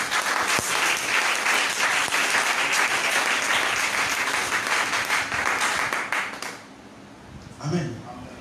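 A church congregation applauds loudly and continuously for several seconds as it acclaims the Lord, mixed with crowd voices. The clapping then cuts off sharply and gives way to quieter speech.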